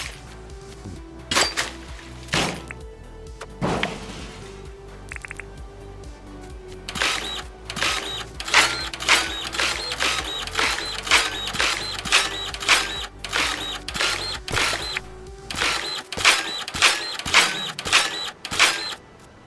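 Dirt printer machine in the video game Dinkum running with a steady hum, broken by a rapid series of sharp mechanical clicks and clacks that repeat in a fast, regular rhythm, loud and close.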